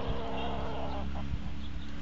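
A chicken clucking nearby in short bursts, heard on its own over a steady low background hum.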